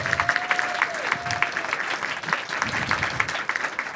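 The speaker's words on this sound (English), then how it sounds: "Let's give Roseann a big round of applause" An audience at a filmmaking panel discussion applauds a panelist with a dense, sustained round of clapping. A brief whistle-like tone rises near the start.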